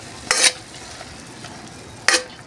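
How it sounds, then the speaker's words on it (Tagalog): Water coming to a boil in a cooking pan, a low steady bubbling hiss broken by two sharp louder bursts of stirring or sizzle, close by and without speech. "Ayan po, kumukulo na po siya."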